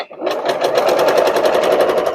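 A sewing machine stitches a seam on a quilt block, giving a loud, steady rapid mechanical chatter close by with no pauses, running alone.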